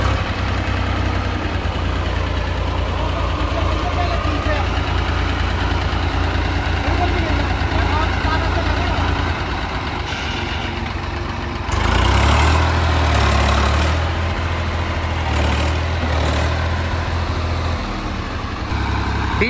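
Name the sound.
diesel tractor engine running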